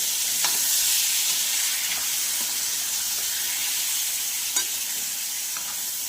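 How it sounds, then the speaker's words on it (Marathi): Boiled chickpeas with spices being mixed in a frying pan under a steady, bright sizzle, with a few soft scraping strokes of the spoon, close and continuous, with no voices. "तर मिक्स करून घेऊया"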